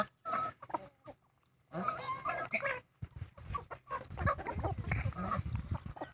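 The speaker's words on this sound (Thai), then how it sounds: "ไก่หนุ่มไก่สาวไก่แม่พัน" Young roosters, pullets and hens cluck and call close by in a garden, in uneven bursts separated by short quiet gaps, with no talking.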